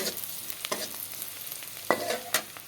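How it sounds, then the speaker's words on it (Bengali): Small spice-coated fish go into hot oil in a kadai with onions for a tomato fish chachchari. Quiet, close frying crackles and soft stirring scrapes come with a few brief sizzling bursts. "কড়াইতে তেল দিয়ে দিলাম এখন মাছগুলোকে ঢেলে দেবো"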